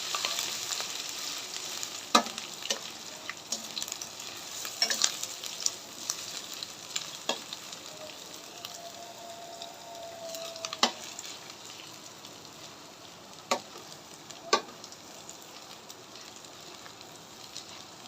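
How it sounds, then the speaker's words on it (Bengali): Ginger frying in a pan, a soft continuous sizzle broken by occasional sharp clicks from stirring, no one speaking. "আদাটা দিয়ে একটু লাল লাল করে ভেজে নেবেন"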